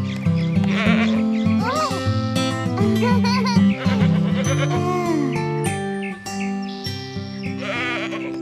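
Bleating sheep sounds ring out within a sung Arabic version of the nursery rhyme Baa Baa Black Sheep, repeated over bright, loud children's music with a voice singing along.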